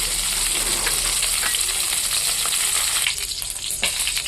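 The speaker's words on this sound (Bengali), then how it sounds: "কারি পাতা, সর্ষে আর শুকনো লঙ্কার ফোড়ন আমি দিয়ে দিয়েছি।" Curry leaves, mustard seeds and dry chillies tempering in hot coconut oil give a steady, loud, close sizzle and crackle that runs without a break, with a few sharper pops near the end.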